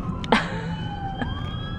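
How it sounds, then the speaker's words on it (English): An ambulance siren drifts past outside, its wailing tone gliding slowly through the scene, fairly loud and steady behind a quiet interior. "That would be the ambulance driving by."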